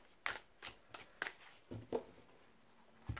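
Tarot cards being shuffled by hand in a series of crisp riffling bursts, about eight separate flurries spaced irregularly, fairly close and quiet with no voices.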